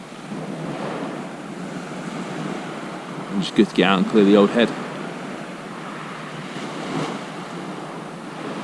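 Waves wash steadily onto a shingle beach at Pevensey Bay at night in a constant soft roar, with someone speaking briefly over them midway.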